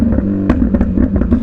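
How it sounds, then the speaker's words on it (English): Loud motorcycle exhaust rumbling close by, with sharp pops and crackles breaking through the continuous engine roar. "even with that exhaust noise going behind me"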